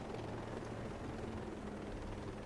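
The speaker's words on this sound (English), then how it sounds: "Across the river there's a helicopter, if you can see it." A helicopter in the video game Ghost Recon Breakpoint makes a steady, low rotor rumble that sounds distant and fairly faint, with no talking.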